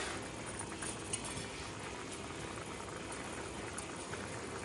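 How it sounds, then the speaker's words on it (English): Coq au vin with chicken and bacon simmers in a pot, giving a steady, dense bubbling hiss with occasional faint clinks, continuous and close throughout. "See, it's simmering."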